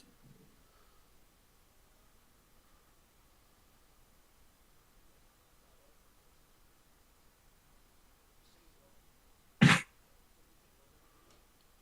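A single sharp sneeze from a man, close and loud against a quiet room background, near the end.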